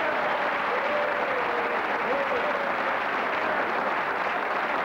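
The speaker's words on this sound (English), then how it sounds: "I name the candidate, you applaud." A large audience applauds when Ronald Reagan is named, a sustained, dense roar of clapping with some crowd voices faintly woven through, steady and full for the whole stretch.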